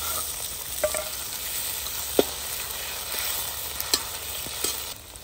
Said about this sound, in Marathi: आता टोमॅटो टाकतोय आपण